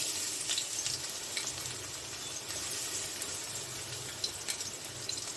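Onions frying in mustard oil in a pan, a steady, close hiss of sizzling with faint crackles and the occasional soft clink, continuous throughout with no talking.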